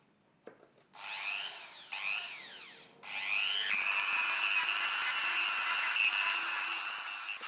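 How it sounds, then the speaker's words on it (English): A Dremel rotary tool grinds stubborn glaze off a ceramic kiln shelf, whining loudly in sustained high-pitched bursts, with two short passes followed by a long continuous grind, close to the listener and with no talking over it. "the worst of it will need grinding away with a Dremel"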